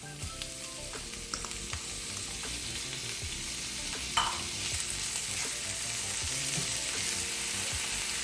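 Garlic and mixed peppers sautéing in a pan, a steady moderate sizzle with intermittent stirring scrapes and light clicks, close and continuous.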